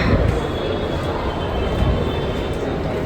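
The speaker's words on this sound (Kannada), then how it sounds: "MG ರೋಡ್ ಮೆಟ್ರೋ ಒಳಗೆ" A metro train inside MG Road metro station produces a loud, steady broadband rumble and whoosh throughout, a continuous rolling roar with faint higher hiss on top and no clear talk.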